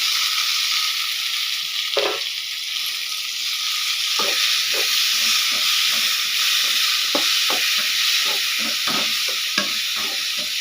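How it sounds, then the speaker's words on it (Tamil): Tomatoes and onions sautéing in a pan for a bitter gourd aviyal, with a steady close sizzle and hiss throughout and repeated scraping stir strokes from about two seconds on. "இந்த ஸ்டேஜில் நம்ம தக்காளி போட்டுக்கலாம்"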